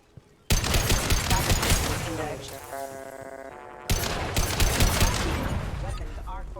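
Bursts of automatic gunfire in the video game Mass Effect, two loud volleys of rapid shots separated by a short lull with a sustained tone, close and harsh, with game voices underneath.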